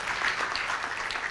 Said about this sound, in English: can I have a round of applause for all the case studies that's being presented today?